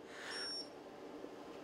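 A Mitsubishi CP D90DW photo printer gives a single faint, high electronic beep as photo paper loads, followed by a low hum in a quiet room.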